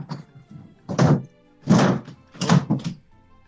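A door closes with a few dull, heavy thunks close by, spaced about half a second to a second apart, with no voices.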